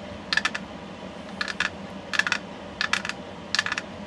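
Left-handed tin snips cutting sheet metal while working on a boat, five short bursts of crisp snipping clicks, each a quick cluster of cuts, evenly spaced and fairly close, with no talk.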